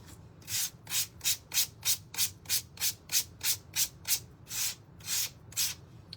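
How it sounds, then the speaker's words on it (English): Small wooden pieces from a St Patrick's Day DIY house kit are sanded by hand in quick, close, rhythmic rubbing strokes, about sixteen scratchy back-and-forth passes in a row. "This does sand down a little bit lighter"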